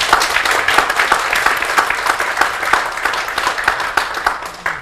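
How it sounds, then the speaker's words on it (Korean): A conference audience gives big applause to welcome a professor to the podium for a keynote on youth employment, a dense, steady clapping that stays loud for the whole five seconds before easing slightly at the end. "검재호 교수님 큰 박수로 환영해 주시기 바랍니다."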